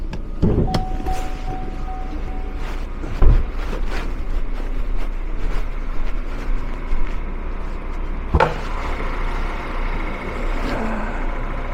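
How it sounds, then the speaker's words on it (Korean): A new Chevrolet Malibu 2.0 GDI turbo converted to LPG idles steadily with its hood open, a continuous close engine hum broken by a few sharp clicks and knocks, with no talk. "새 차라서 그런지 엔진 소리 정말 아, 정말 좋네요"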